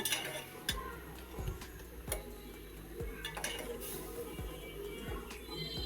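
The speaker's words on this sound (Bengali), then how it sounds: "এখন আমি সবগুলো একসাথে একটু কষিয়ে নেব ভালো করে নেড়ে চেড়ে কষিয়ে নেব" Chilies and other ingredients sautéed and stirred in a pan for a sour fruit dish, with a faint sizzle under regular spatula knocks against the pan, about one every second, close and quiet.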